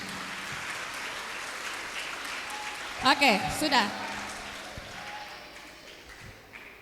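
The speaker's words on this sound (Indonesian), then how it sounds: "tepuk tangan buat kita semua" Congregation at a children's and youth Christmas service of a KINGMI church in Jayapura claps throughout, a steady mid-level patter with a short, sharper burst partway through and a few spoken words over it.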